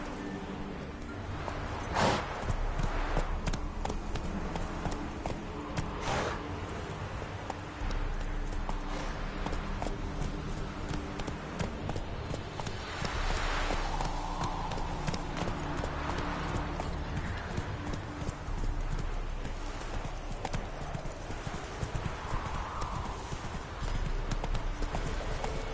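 Horse hooves clip-clopping in a steady galloping rhythm in The Witcher 3 video game, continuous and fairly close, with occasional faint snorts.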